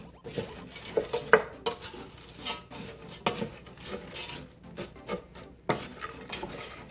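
Vegan meat browning in olive oil in a pan, with a steady soft sizzle broken by scattered clinks and scrapes of a utensil stirring against the pan, close and moderately quiet.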